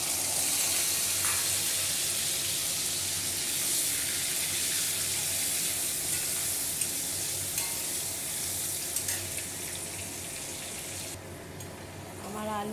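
Cubed potatoes fry steadily in hot oil with bay leaf, whole cumin and chili, a close, continuous sizzle with occasional stirring scrapes throughout.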